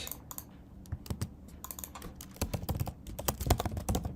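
Rapid, uneven clicking of computer keyboard keys as code is typed, close up, in bursts with brief pauses that grow denser toward the end.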